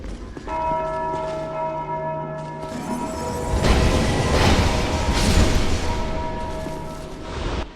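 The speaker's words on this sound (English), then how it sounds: "Something that got worse in the Scholar version are the bell-ringing hollows that wake up these ghostly spellcasters." Bell-ringing hollows in Dark Souls 2 Scholar of the First Sin ring large bells, giving loud, resonant clangs with long ringing tails that swell into a dense, booming wash of sound.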